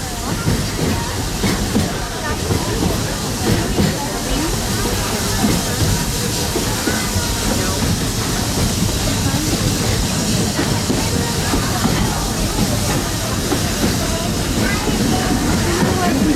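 A steady, dense rumble of a train at Disney World with hissing and rattling clatter that runs unbroken throughout, with faint voices somewhere in the background.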